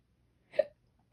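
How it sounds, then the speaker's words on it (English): A single short hiccup from a woman, sharp and close, with near silence around it. "Sorry, I have the hiccups."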